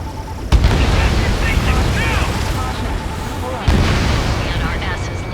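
A heavy boom erupts from a destroyed target in the Ace Combat 7 jet combat game, followed by a rumbling roar and a second blast near the end, loud and close, with a radio voice speaking over it.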